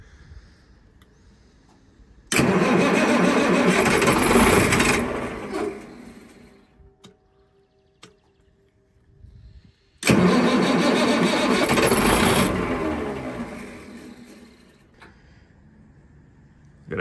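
An engine on an auction unit is cranked twice in long, loud bursts several seconds apart, each dying back to near silence, with no speech.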